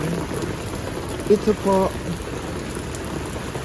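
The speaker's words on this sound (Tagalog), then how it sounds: "pag sobrang lakas ng ulan" Heavy rain pours steadily during Typhoon Carina at a flooded house, a dense hiss throughout, with a brief spoken phrase and a few short tonal blips partway through.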